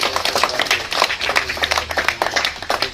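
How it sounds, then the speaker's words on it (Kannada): An audience gives loud applause at a government Urdu primary school function in Hubballi. Dense, close clapping continues for the whole stretch. "ಜೋರಾದ ಚಪ್ಪಾಳೆ ತಟ್ಟದ ಮುಖಾಂತರ"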